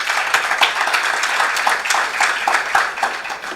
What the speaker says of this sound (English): Do we want to give the 3 presenters a round of applause one more time?